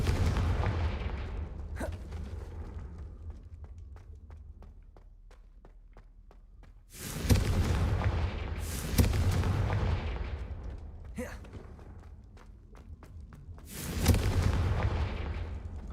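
Spell-casting combat in Hogwarts Legacy, with repeated heavy blast impacts and booming bursts arriving every few seconds, loud and dense, separated by rapid ticking clicks and rumbling effects.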